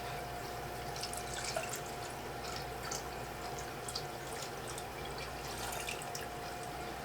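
Water pours into a betta fish tank as a faint, steady trickle with light splashing and dripping. It runs continuously and sits low beneath a constant background hum.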